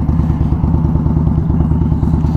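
A 2019 custom Indian Scout Bobber motorcycle engine idles at a stop light, a loud, steady, close-up rumble with a throbbing low pulse and no talk over it.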